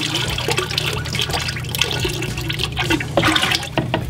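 Pottery glaze poured around the outside of a ceramic piece, a steady close liquid pouring and splashing that runs continuously for several seconds with small drips and surges.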